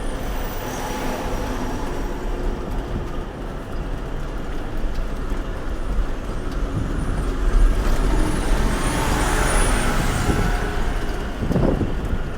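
A truck descending a hill with brakes applied, heard from the cab as a continuous low engine and road rumble with a hissing wash that swells toward the end.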